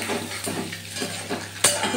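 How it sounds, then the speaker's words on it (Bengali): Eggs sizzle in a pan with turmeric and chilli powder, a moderate close crackle broken by spatula scrapes and a sharp clink of utensil against metal. "একটু ভেজে নিয়ে আসছি"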